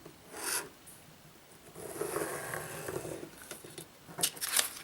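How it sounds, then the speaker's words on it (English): Scissor blades scored along paper fold lines for a handmade gift or party bag, giving short dry rasping strokes with a couple of sharper scrapes near the end, close and fairly quiet. "I'll just run the scissors down those lines."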